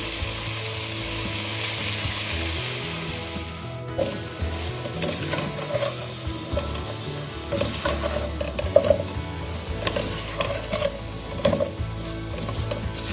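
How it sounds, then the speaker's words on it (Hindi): Potatoes and spices fry in a pan for Bombay masala biryani, a steady close sizzle with scattered scraping clicks from stirring running throughout, no talk. "हम इसको 2 मिनट अच्छी तरह से भून लेंगे ताकि अच्छी तरह से फ्राई हो जाए।"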